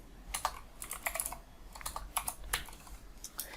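Typing on a computer keyboard while writing an HTML form, a run of quick, close clicky keystrokes in uneven bursts with short pauses, no voices.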